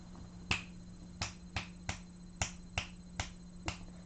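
A string of about eight quick finger snaps in an uneven rhythm, each bright and near, over a low room hum, used to test whether Lily, a pregnant rescue cat, can hear.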